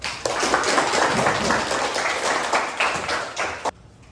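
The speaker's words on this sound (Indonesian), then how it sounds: "kita beri aplaus" Classroom of students clapping for a student presentation in a seventh-grade class, dense continuous applause from many hands, fairly close, lasting several seconds before stopping abruptly, followed by quiet room tone.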